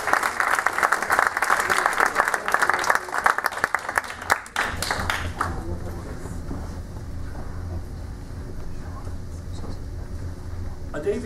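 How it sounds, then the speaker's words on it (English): Audience at a university Palestine cultural festival applauds performers, a loud burst of dense clapping for about five seconds that then drops away into quieter room noise. "Please give a round of applause."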